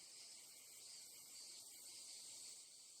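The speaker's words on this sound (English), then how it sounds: "Cicadas." Petted creatures in a video game give off a faint, continuous cicada-like buzzing chirp, a steady high drone with no talking.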